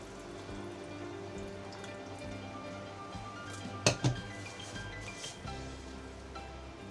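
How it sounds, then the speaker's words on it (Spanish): Whisk stirring warm milk in a kitchen container while making ham and prawn croquettes, a soft steady scraping and clinking with two brief louder metal knocks near the middle; no voices. "ahora voy a coger mis varillitas y voy a remover muy bien"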